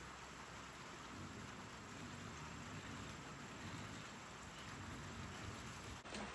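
Steady rain drumming on a metal roof, dense and continuous at close range, with low thunder rumbling beneath it throughout.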